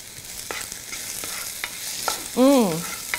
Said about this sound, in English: I'm going to give it a good stir